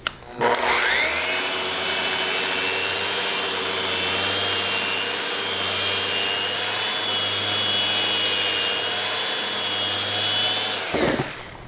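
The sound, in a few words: Festool Rotex sander sanding a board with 60 grit paper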